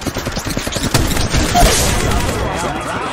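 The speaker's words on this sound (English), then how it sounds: "Opening fire on the enemy." Rapid automatic gunfire rattles in the Apex Legends Mobile shooter game, dense repeated shots at the start followed by continued combat noise, with game voice callouts mixed over the action.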